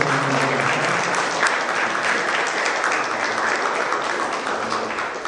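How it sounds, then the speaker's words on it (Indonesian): A crowd claps in appreciation at a Jakarta event where the governor receives street children who play football, a thick, continuous burst of applause with no pauses, fading a little near the end. "Mungkin kita bisa beri tepuk tangan hasil apresiasi."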